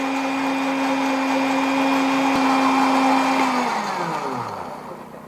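A blender grinds garlic for an herbal remedy, holding a steady high whine before it switches off and spins down to silence.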